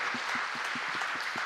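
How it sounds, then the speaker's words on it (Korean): Church congregation clapping together during a sermon on laughter, a steady broadband wash of applause with a few distinct claps standing out, close and continuous. "맞으면 하나님께 영광의 박수를 올려드리자고요."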